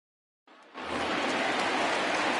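Rain falls in a baseball game in MLB The Show 20, Texas Rangers at the 90s Yankees: after a moment of silence a soft hiss fades in, then swells into a steady, even downpour.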